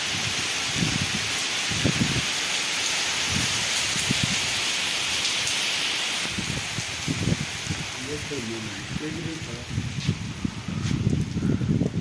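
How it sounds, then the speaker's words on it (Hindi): Steady, dense monsoon rain hiss over crop fields fills the whole stretch, with people talking quietly underneath and a few scattered thumps and knocks. "बहुत तेज़ बारिश हो रही है"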